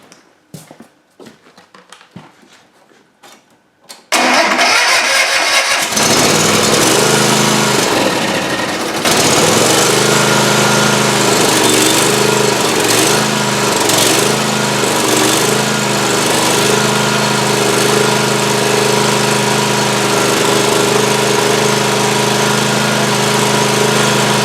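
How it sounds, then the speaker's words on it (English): A Toro zero-turn mower engine cranks with a few faint clicks, then fires up and runs loud and steady close by, a constant rough drone that continues to the end with no talk. "let's see if it'll crank and fire up."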